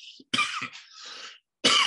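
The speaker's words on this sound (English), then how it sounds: "Still got a little cough from that little cold that I had" A few dry coughs in quick succession, close and fairly loud, with a short pause before a final harsher cough.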